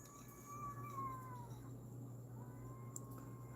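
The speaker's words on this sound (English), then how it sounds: "Oh no, that's a cat." A cat meows outside a house, several drawn-out, wavering cries that are fairly faint and distant, with no talk.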